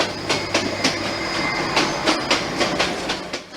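A metro train passes close by on a railway line beside houses, its wheels beating a steady clickety-clack rhythm with regular thumps over rail joints and a loud continuous rumble throughout.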